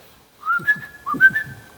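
A man whistles softly to call cats, giving two short rising whistle phrases, each ending in a held note. The whistling is close and clear, heard alone.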